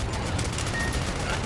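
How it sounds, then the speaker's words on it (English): Dense, continuous machine gun fire in the video game Sand Land, a steady rapid burst filling the whole moment at close range with no pause. "Use the machine gun again!"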